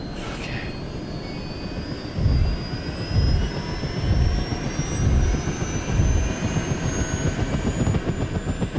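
Medical airlift aircraft carrying a critically ill patient to hospital, heard as a loud, steady engine roar with rhythmic rotor-like thumping pulses throughout and a rising high whine, no voices.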